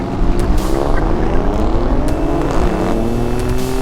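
A BMW X4 M Competition and an Alfa Romeo Stelvio Quadrifoglio in a drag race, loud engines straining with rising pitch and a shift midway, heard from inside one SUV without talk.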